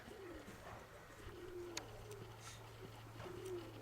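Soft, low pigeon coos repeat through the clip over a steady low hum, with a couple of brief sharp chirps from other birds.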